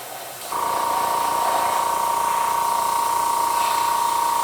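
Airbrush or spray gun spraying paint onto a Tiger tank scale model, a steady loud hiss that starts abruptly after a short quiet moment and holds evenly with a faint tonal whine.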